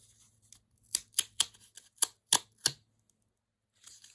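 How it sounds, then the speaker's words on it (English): Cardboard layer torn and peeled away by hand in a series of close, dry ripping bursts, about seven quick pulls with brief pauses between them, followed by a faint rustle. "And now I'm going to peel off"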